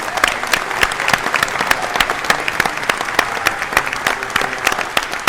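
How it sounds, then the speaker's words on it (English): An audience claps for a discussion panel at a studio event, a lively steady round of applause with distinct sharp claps scattered through, close and continuous with no talk over it. "let's give a round of applause to our panel"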